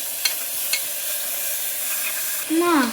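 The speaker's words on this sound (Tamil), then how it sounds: "இந்த எண்ணெயிலே எல்லாம் வதக்கிடணும்" Onion, tomato, coriander leaves and mint sauté in hot oil for chickpea biryani, a steady close sizzle with a couple of sharp spatula clinks and a louder scraping stir near the end.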